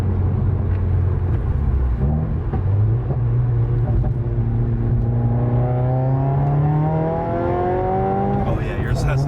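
A 2015-or-later Subaru WRX accelerates hard, the engine note climbing steadily through a long pull with rising harmonics, loud and close, with people talking over it.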